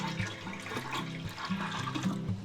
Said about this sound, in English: next I have just 2 cups of orange juice going in